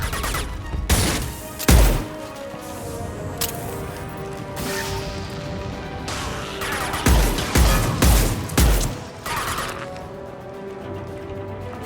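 The Impact Shot power fired in the game Mass Effect 2 during combat, with several sharp thuds and cracks spread unevenly over a steady ambient hum, one early strike and a cluster of hits later.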